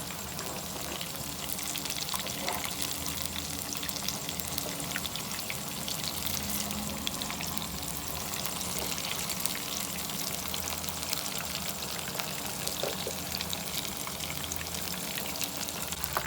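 Breakfast snacks fry in oil over medium heat, giving a steady, dense crackling sizzle that runs unbroken and close for the whole stretch, with no voices.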